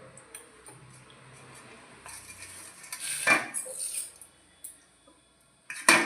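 Metal spoon stirring and pressing purple falsa berry sharbat through a strainer, quiet scraping giving way to louder clinks and knocks against the bowl, ending with a sharp clatter.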